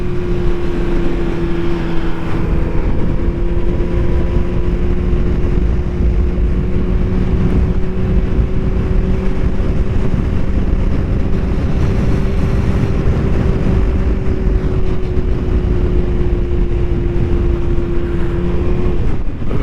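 A Kawasaki ZX-14R motorcycle cruising in third gear on rural back roads by a lake: a steady, droning engine tone holds nearly constant under heavy wind buffeting throughout.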